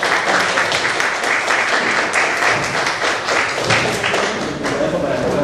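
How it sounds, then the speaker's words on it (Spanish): An audience claps steadily in sustained applause at a convention, loud and dense, with a voice briefly heard over it. "Por favor, recibamos un fuerte aplauso al doctor Luis Alonso García Muñoz Nájera."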